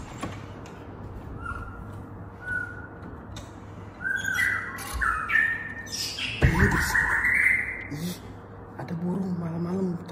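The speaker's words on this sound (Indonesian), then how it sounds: "Ada burung malam-malam teriak-teriak." A bird calls out repeatedly at night outside a quiet house before dawn, its short whistled and squawking notes rising over a low background hum while a person talks nearby.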